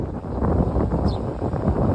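Steady wind buffeting a microphone outdoors at an electric car charging station in the Rockies, a continuous low rumble with gusty swells throughout.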